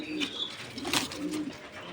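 Trumpeter pigeons, a tiger and an andalusian pair, coo softly and repeatedly at close range, with soft low warbling calls over a quiet background.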